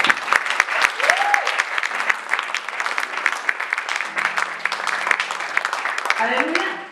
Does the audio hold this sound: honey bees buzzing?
no